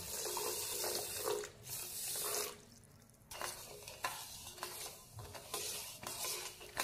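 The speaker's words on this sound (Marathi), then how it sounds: "जेवढी साखर तेवढंच मी पाणी घालते" Water pours onto sugar in a pan to make gulab jamun syrup: a soft, close trickle and splash in uneven bursts, fairly quiet, with a brief lull midway.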